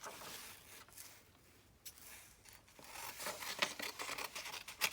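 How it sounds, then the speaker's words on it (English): Crisp snipping and rustling of paper being cut, a series of irregular close scissor cuts growing busier toward the end. "I'm just going to cut it with my scissors."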